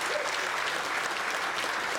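An audience at an innovation awards ceremony claps in a dense, steady round of applause that holds evenly throughout, filling the hall.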